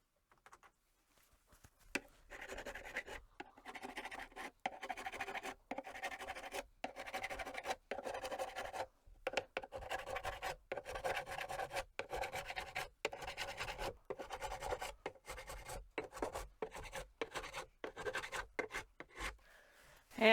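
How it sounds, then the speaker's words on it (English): Steady rasping strokes of a crowning file worked across the frets of a Washburn guitar, repeated in short rhythmic bursts with brief pauses, close and fairly loud, no talking. "I want to grab my crowning file now."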